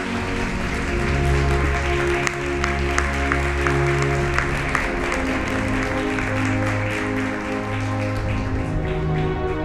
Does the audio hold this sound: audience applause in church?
yes